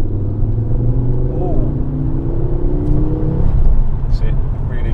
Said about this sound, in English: Once the turbo spins up, then it goes.